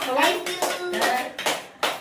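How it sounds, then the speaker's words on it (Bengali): A family claps hands at a child's birthday gathering, a few bursts of scattered applause rising and fading close by, with a voice and other chatter mixed in. "সবাই একটু হাততালি দাও, একটু হাততালি দাও, হাততালি দাও"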